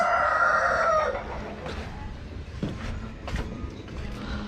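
A rooster crows loudly at the start, followed by scattered clucks and soft rustling from nearby chickens.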